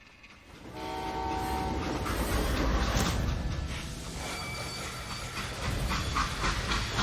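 A freight train in the Western video game Call of Juarez: Gunslinger rumbles loudly and steadily with rattling wagons and a sustained horn-like whistle tone near the start, with no speech.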